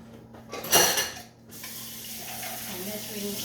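Tap water runs over a measuring cup in a kitchen sink, a splashy burst up close at first that settles into a steady stream with a faint clink.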